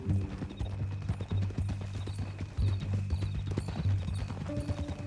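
Horse hooves clip-clopping at a steady walking rhythm in Red Dead Redemption 2, close and clear over a low rumbling game ambience.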